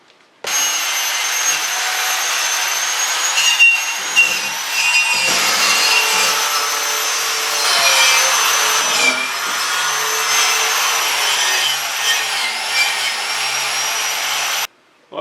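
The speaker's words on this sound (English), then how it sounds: "I got that just about as good as I can with a wire brush" A wire brush scrubs loose rust off the trailer hitch on a 2008 Dodge 2500 rear bumper, a loud, harsh, continuous rasping scrape that runs without pause for about fourteen seconds, close up and with no talking.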